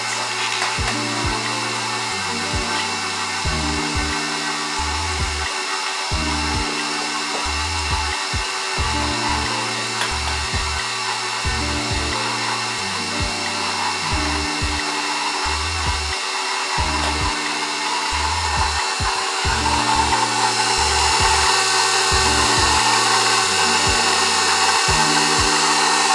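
An electric stand mixer runs on its low stir setting while eggs are beaten into sponge cake batter for a strawberry sponge cake, giving a steady close whirring hum with a repeating pulsing pattern throughout.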